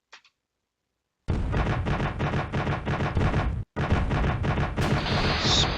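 Gunfire in the naval combat game Command Modern Air/Naval Operations roars as a dense, continuous rattling barrage, loud and sustained, with one brief break before it resumes.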